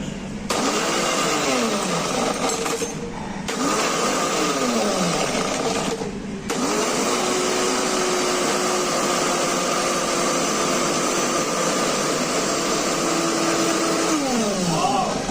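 An electric blender whirs loudly up close, crushing mango, ice cubes and margarita mix, running in long bursts with brief pauses, its motor pitch rising and falling as the ice breaks down.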